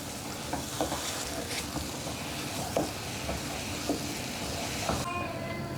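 Sweet red bean paste is stirred in oil in a pan: a continuous crackling fry with scattered spoon scrapes and taps, fairly close and steady, and no voices.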